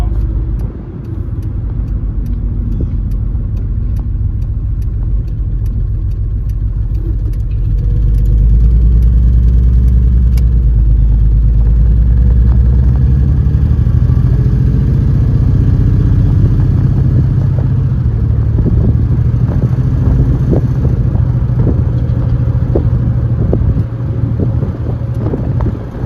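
A 1967 Ford Mustang convertible with an inline-6 engine cruises along, its steady mid-pitched engine drone rising slightly as it accelerates and then holding a continuous, close rumble with no talking.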